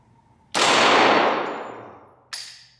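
A POF Rebel .22LR pistol fires a single sharp shot with a long ringing decay, followed moments later by a second, quieter metallic clank.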